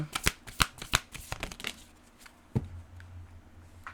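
Oracle cards being shuffled by hand, a quick run of crisp riffling slaps that thin out into a few soft final taps, close and clear with no talking.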